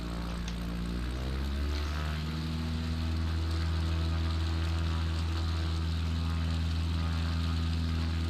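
A propeller airplane engine in Microsoft Flight Simulator 2020 drones steadily and loudly, its pitch shifting briefly near the start before settling into a constant hum that fills the whole stretch.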